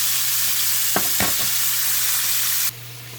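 Chicken fries in oil in a pot with a steady, loud sizzle, broken by a few short stirring clatters before the frying noise drops off abruptly near the end.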